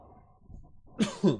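Two quick, rough coughs close to the microphone follow a moment of quiet low rustling.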